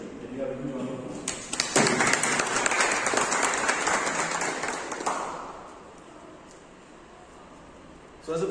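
Meeting audience breaking into a round of applause, a dense burst of clapping that swells for several seconds and then fades, with talk before it starts.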